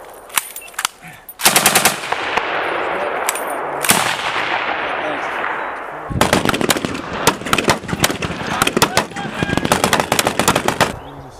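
A machine gun fires during a marine live-fire drill, loud close bursts of rapid shots with a sustained roar between them, and later dense, rattling volleys; voices are faintly present.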